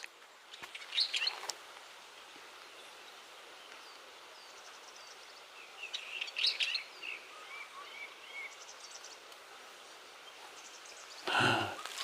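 Scattered bird chirps and calls sound faintly over a quiet forest hush at the Susa Temple ecological forest on Gongjaksan, Hongcheon, with a soft rustle near the end.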